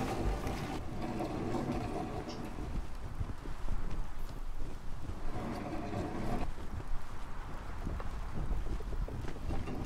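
A galleon sails through strong wind in the ATLAS video game, with blustery wind noise, creaking and water washing around the hull, continuous and fairly loud.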